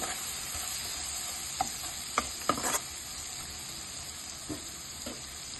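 Seasonings, including turmeric, fry in a pan for a spinach and raw mango dal while being stirred: a faint, even sizzle with a handful of sharp spatula clinks scattered through.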